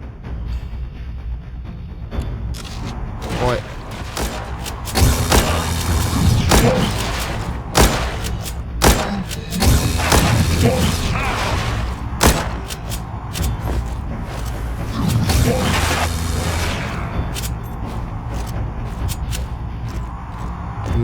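Explosions and bursts of gunfire in the zombie shooter game The Walking Zombie 2, heavy booms and thuds arriving in irregular clusters over a low rumbling game soundtrack, with no talk.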